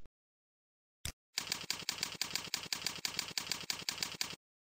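Rapid keystrokes on a computer keyboard, a single click followed by an even burst of about a dozen close, crisp taps, with no talking.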